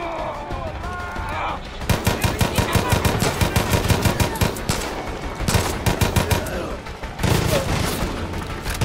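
Rapid gunfire in the Far Cry 5 video game, a dense run of loud automatic shots with short pauses, backed by a constant game soundscape and some speech.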